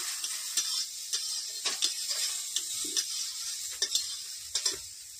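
Sliced onions for a fish dish are stirred in a pan over a village clay stove. A spoon scrapes and clicks in an uneven rhythm over a soft, continuous frying hiss, and no voices are heard.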